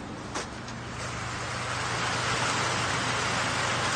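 Steady rain falls outside, a continuous broadband hiss that swells slightly and holds level, with a faint low hum underneath and one brief bump near the start; no one speaks.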